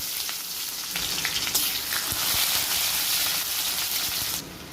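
Loud, steady sizzling of chopped onion frying in hot oil in a kadai with dried red chillies, cumin and bay leaves, scattered crackles and a few utensil clicks, dropping off sharply near the end.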